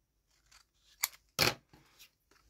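Scissors snip through paper in a few short, crisp cuts, close and fairly quiet, with brief pauses between each snip.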